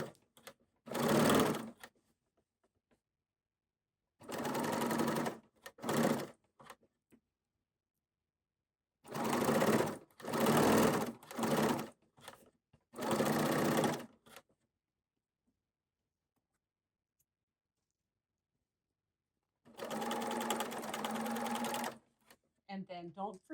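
Sewing machine fitted with a belt loop maker attachment stitching fabric flowers, leaves and stems, running in several distinct bursts of a few seconds each with silent pauses between.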